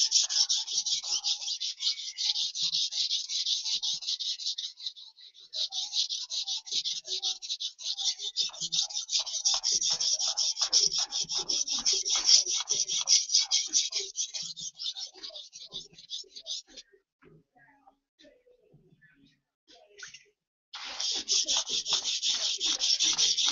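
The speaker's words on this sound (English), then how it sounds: "We're going to start sharpening this one." A blade is sharpened by hand with a steady run of rhythmic rasping strokes against the stone, followed by a brief pause and then a fresh burst of strokes, heard close and alone.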